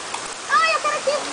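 A small artificial waterfall along the Rio Lento slow-river ride at a water park gives a continuous splashing rush of water, with bright child-like voices sounding briefly over it.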